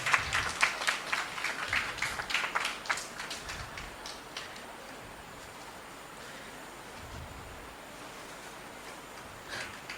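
An audience at a Hindi literary festival gives scattered applause as a women's college delegation is welcomed on stage. Distinct claps ring out for the first few seconds, then fade into quiet room noise, with a few claps returning at the end.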